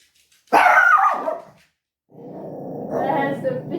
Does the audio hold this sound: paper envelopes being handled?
no